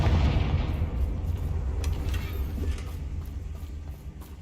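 A Confringo fire-blast spell in Hogwarts Legacy: a deep rumbling boom that rolls on and slowly fades over a few seconds, heard alone without talk.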